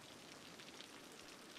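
Steady, even rainfall in the city-building game Cities: Skylines, a continuous soft hiss of drops pattering on surfaces with no talk over it.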